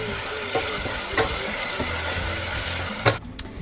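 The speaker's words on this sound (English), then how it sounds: "Give that a bit of a stir." Garlic and tomato sizzle steadily in a hot pan while being stirred for a dal, with scraping clicks from the spoon against the pan and a brief louder clatter near the end.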